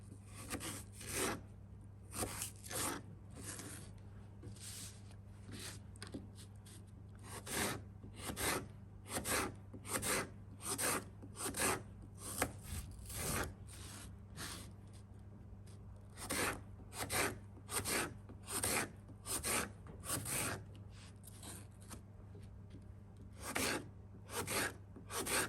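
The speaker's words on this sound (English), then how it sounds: "we are just going to slice nice thin even sized slices" A knife slices an apple into thin, even slices, producing a fairly regular series of short, crisp cutting strokes, close and quiet, with no talk.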